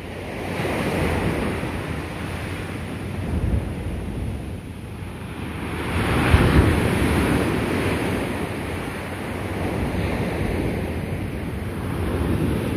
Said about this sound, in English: There are some huge waves.